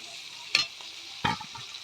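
Masala with chopped tomato sautéing in a pan, two distinct scraping stirs over a low, steady sizzle, close by.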